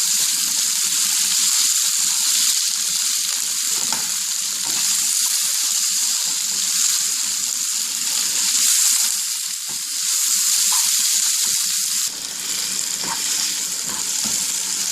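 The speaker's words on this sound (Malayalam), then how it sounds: "തക്കാളി വെന്ത് നന്നായി എണ്ണ തെളിഞ്ഞ് വരുമ്പോൾ എണ്ണ തെളിയണ വരെ ഇളക്കിക്കൊണ്ടേയിരിക്കും" Tomatoes fry in oil for a Kerala-style chicken roast while being stirred: a loud, continuous sizzle and crackle with scraping stir sounds, briefly easing a few times, and no talking.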